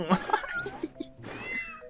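Several cat meows and a drawn-out caterwaul from the video game Tasty Planet Final Bite, loud and close, following one another in quick succession with no talking.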